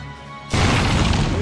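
A mortar cannon blows up in the video game Valkyria Chronicles, hitting as a sudden loud, close crash that then holds a dense, roaring rumble to the end, with a voice faintly underneath.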